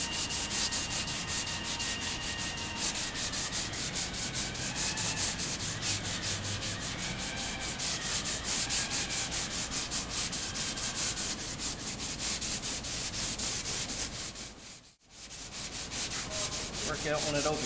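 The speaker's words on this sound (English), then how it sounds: "Concentrating on this edge right now, cross sanding, just trying to get it to feather in good" Sandpaper is worked by hand in rapid back-and-forth cross strokes over glaze on a car body panel, a continuous rhythmic rasping scrape, close and steady, broken by one brief pause near the end before resuming.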